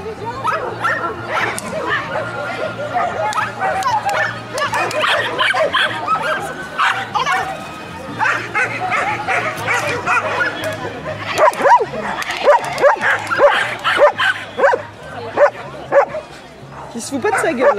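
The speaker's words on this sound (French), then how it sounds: "C'est mon chien après qui court." A French bulldog barks, yips and whimpers repeatedly outdoors, the bursts coming in irregular clusters and growing sharper toward the end, while people talk nearby.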